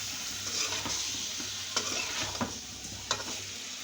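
Potatoes fry and get stirred in a pan, giving a continuous close sizzle with intermittent scraping and clanking strokes of a spoon against the pan, and no one speaking.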